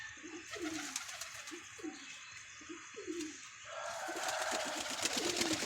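A pigeon coos in a series of soft, low, throaty calls close by, then a louder, steady hiss of background noise takes over while a few faint coos continue beneath it.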